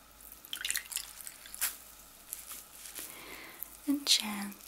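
Water drips and trickles into a warm bowl during an ASMR spa wash, soft close-up splashes and droplets scattered across a quiet background, with a louder burst of pouring near the end.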